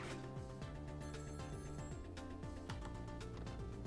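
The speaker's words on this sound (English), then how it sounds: "The telephone is ringing." A telephone rings repeatedly in Ghost Trick: Phantom Detective, its electronic trilling bell mixed with the game's background music and steady throughout.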